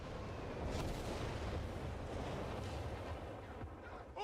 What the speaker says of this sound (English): As soon as you hear that noise of artillery coming in, you need to be looking to see where it's landing and instantly reacting to it.